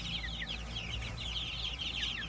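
Cornish cross meat chickens, a flock of fifty, keep up a steady mass of overlapping clucks and soft chirps with constant low background hum, no talking.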